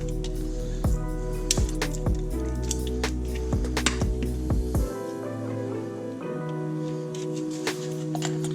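Electromotive cleaner sprayed onto RC car parts to remove diff or shock fluid: a series of short hissing bursts and squishy spurts, close to the microphone, with clicks and drips in between and no talking.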